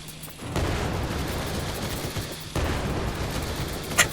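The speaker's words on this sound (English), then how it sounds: "looks like our guns want to handle this" Defensive guns fire in the Night of the Dead zombie game, a dense, continuous roar of rapid shots that swells up loud and keeps pounding, with a sharp crack near the end.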